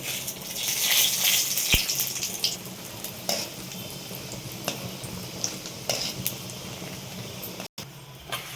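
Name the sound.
frying and stirring chudva ingredients in a pan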